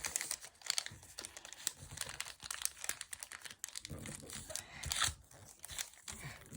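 Paper being creased and folded by hand for an origami TV Woman figure, with close, repeated crinkling and crunching in short bursts, a few sharper crackles standing out, and no talking.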